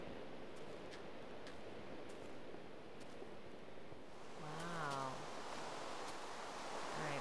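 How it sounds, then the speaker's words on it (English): Steady rain falls in the video game Minecraft as a dense, even hiss throughout, with a brief tonal warble rising partway through. "And it's raining."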